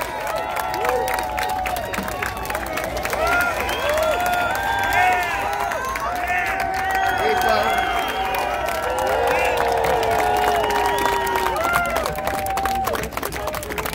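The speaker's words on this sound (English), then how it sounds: "I want to hear a big, long New York round of applause for every single organizer" A large outdoor New York crowd at a student-loan rally cheers, whistles and claps continuously, a dense, loud wash of shouting voices and applause sustained throughout.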